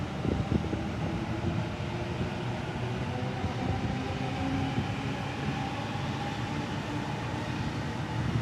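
Waratah B set electric passenger train rumbles past at close range, a steady dense roar of wheels and motors with faint whining tones, holding at a constant level throughout.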